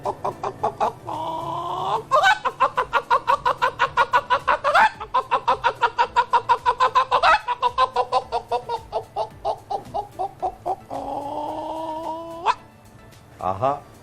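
A mimicry artist voices a hen cackling after laying an egg, a long run of rapid, loud, rhythmic clucks rising into drawn-out squawks, close and unaccompanied by other sounds.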